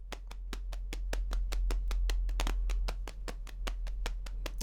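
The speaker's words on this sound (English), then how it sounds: "that's literally me just slapping on my thighs like this." Quick, dense body percussion from hands slapping the thighs, a busy rapid pattern of dull close smacks running continuously over a low steady hum, with no talking.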